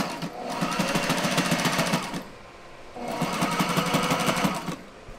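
A sewing machine stitching at close range in two steady bursts of rapid, even needle chatter, about two seconds each with a short pause between, and no talk.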